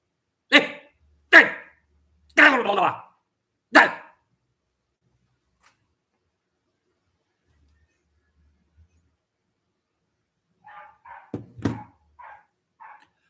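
A dog gives four sharp, loud barks spaced about a second apart, then falls silent for several seconds before a few fainter yips and one more bark follow, all close by.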